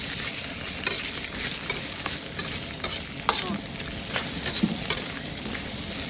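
Cured pork and bamboo shoots stir-fry in oil, a steady close sizzle with scattered scraping stirs and small pops throughout, no voices.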